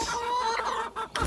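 Hens on a homestead farm cluck and squawk loudly at close range in short overlapping calls, with a brief dip before a louder burst at the end.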